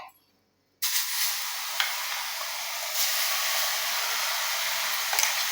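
A paste with black cumin and aloe vera hits a hot pan and sizzles, a sudden loud hiss that stays steady and close after a brief quiet start, with no talking.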